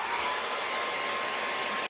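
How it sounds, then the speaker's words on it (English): A hair dryer blowing continuously with a loud, close, airy whir and a thin steady whine, cutting off abruptly at the end. "I'm gonna break out the hairdryer again"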